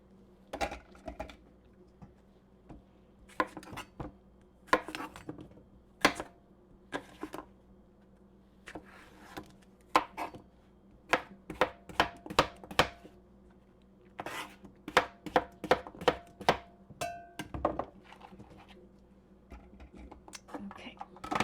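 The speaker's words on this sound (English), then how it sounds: "So we are just going to chop the ends off, and then I'm just going to rough chop" A knife chops through cucumbers on a cutting board while canning sweet pickle relish, a long series of sharp, close knocks, some in quick bursts and others spaced out.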